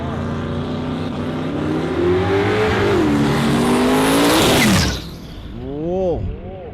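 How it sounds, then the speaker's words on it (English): A drag race car on a radial street tire roars down Warwick Dragway at full throttle, engine note climbing steadily before cutting off abruptly, followed by a lower revving and a commentator talking over the event. "Whoa, just broke him loose a bit further down and decides that's the end of the run."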